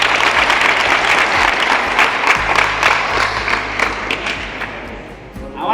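An audience at an institution event claps together in a loud, dense, sustained round of applause that tapers slightly toward the end.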